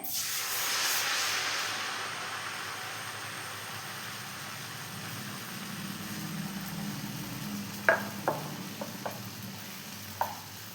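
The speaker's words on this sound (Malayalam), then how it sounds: "മൈദ ചേർത്തിട്ടുള്ള ഞാനിതാ എടുക്കുന്നുണ്ട്, എണ്ണയിലിടുന്നുണ്ട്" Steady hiss and sizzle of maida-coated pappadam frying in hot oil, close and continuous, with a few light clicks and taps near the end.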